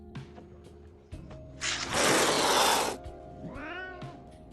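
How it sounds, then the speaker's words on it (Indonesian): A single cat meows in a scene from the 2010 post-apocalyptic film The Book of Eli, a clear rising-and-falling cry near the end, after a loud burst of noise and over a low background hum. "muncul seekor kucing yang kebetulan menghalangi tangan Eli"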